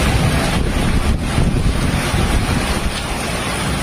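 Stormy sea churns under heavy wind, a loud, dense roar of waves and gusts buffeting the microphone, with brief surges and dips and no voices.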